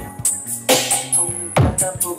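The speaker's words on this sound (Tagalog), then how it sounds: "Ito po yung tunog ng iMix." Music plays through an iMix amplifier sound system set up at a shop in Quiapo, with a punchy beat and bright cymbal-like hits repeating loudly, close and clear.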